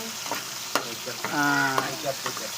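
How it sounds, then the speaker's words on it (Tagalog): Tomatoes and onions sautéing in a pan give a low sizzle punctuated by sharp scrapes and clinks of a spatula, with a brief tonal hum in the middle; no talking. "Yan, nagigisa po ako ng kamatis at sibuyas."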